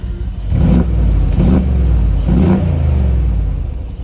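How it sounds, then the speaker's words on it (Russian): Mercedes G63 6x6 twin-turbo V8 exhaust revved in three loud, close blips, each rising into a roar and settling back into a deep rumbling idle, with no voices. "я хочу вам показать, какой же прекрасный выхлоп у Г63"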